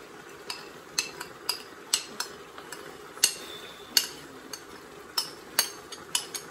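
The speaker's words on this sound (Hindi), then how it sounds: "गोश्त को हम भूनते हैं 1 से 2 मिनट" Mutton being stir-fried in a pot for degi pulao, with a utensil striking the pot in sharp, irregular clinks roughly every half second over a low sizzle.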